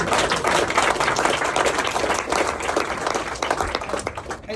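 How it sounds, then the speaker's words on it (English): A room full of guests at a food and drink industry summer parliamentary reception breaks into dense, loud applause, steady and unbroken from start to finish. "let's all give this up to round of applause."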